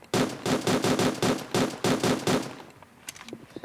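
A Unity 3D first-person shooter, Red Alliance, plays a burst of rapid gunfire, about nine loud evenly spaced shots in quick succession, then the firing stops and a few quieter clicks follow.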